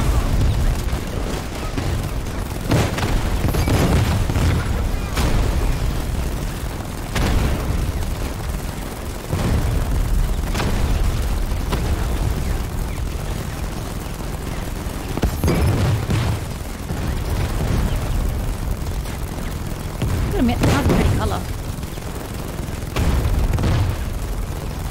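Repeated booming bomb explosions in Batman: Arkham Knight, loud heavy blasts arriving every few seconds over a continuous rumbling din of game combat.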